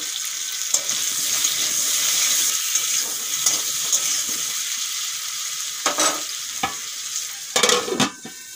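Potatoes fry in hot oil with salt and turmeric, making a bright continuous sizzle, with scraping stir strokes that grow louder near the end, close and without voices.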